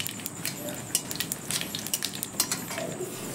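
Black cumin seeds, dried red chili and bay leaf tempering in hot mustard oil, giving quick, irregular crackles and pops in close succession over a faint background hiss.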